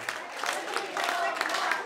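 Wedding guests clap for the bride and groom at a home wedding celebration, a steady patter of many hands over about two seconds with a crowd murmur beneath.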